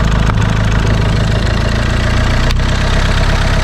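A Renault Clio 2 with the 1.5 dCi diesel engine idles close by with a steady clattering rumble. The engine has a turbo pressure sensor fault, and a short break interrupts the sound partway through.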